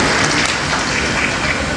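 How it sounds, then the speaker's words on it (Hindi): A ceremony audience gives a big round of applause for hair expert Master Shahzad, a dense, steady wash of clapping that fills the whole short stretch without any voices. "A big round of applause."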